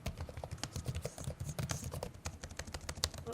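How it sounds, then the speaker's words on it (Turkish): Rapid typing on an Asus Vivobook 15 OLED laptop keyboard with a Ryzen 9 6900HX, a steady stream of close, crisp key clicks and taps with no talking. "Şimdi gelin isterseniz bir de klavyedeki yazım deneyimini beraber deneyelim."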